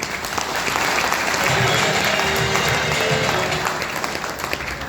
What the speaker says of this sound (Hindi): सभी प्यारी सी टीम और सभी अपलाइनों के एक जोरदार ताली होनी चाहिए दोस्तों।